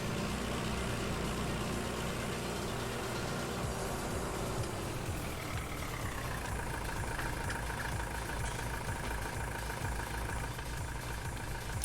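A MB Trac tractor engine from Farming Simulator 19 runs steadily throughout, a loud continuous drone that shifts pitch partway through as the revs change, with no talk over it.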